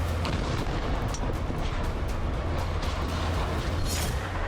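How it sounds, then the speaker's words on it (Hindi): Explosions from missile air strikes in Gaza form a dense, continuous low rumble of blasts and booms, loud and sustained throughout with sharp cracks scattered on top and no voices. "ताबड़तोड़ हवाई हमले हो रहे, हर तरफ धमाकों की आवाज है।"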